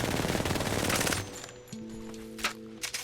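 Automatic weapon fire in Apex Legends, a loud rapid burst for about a second, then a few scattered clicks and tones over a quiet game backdrop.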